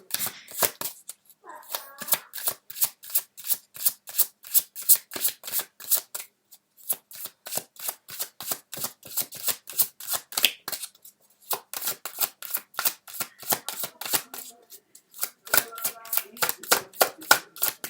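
Tarot cards being shuffled in rapid, continuous riffling bursts, close and crisp, with a few short pauses between runs and no talk over them.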